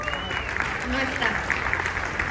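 Steady applause from a crowd at a factory anniversary celebration, a dense patter of clapping that continues throughout while a voice reads names over it.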